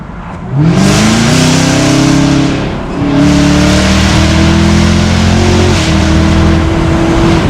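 A Camaro ZL1 engine revs up hard, rising in pitch, drops briefly, then roars again at high revs; loud and close with no talking.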